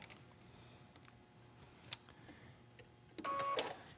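A sewing machine's thread cutter, used while piecing a quilt, gives a short mechanical whir and click near the end after a single soft tick, with the room otherwise quiet.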